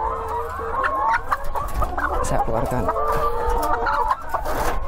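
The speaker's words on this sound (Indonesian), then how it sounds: "Ini untuk usia ayam layer yang hampir 90 minggu, lebih tepatnya 88 minggu ya." Old layer hens around 88 weeks old clucking on a poultry farm, a busy chorus of overlapping clucks and squawks close by, with someone speaking briefly.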